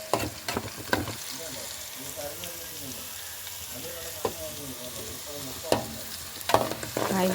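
Food frying in oil in a home kitchen, a continuous close sizzle and bubble with occasional stirring knocks and scrapes, no voices over it.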